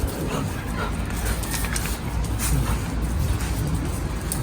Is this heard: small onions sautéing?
no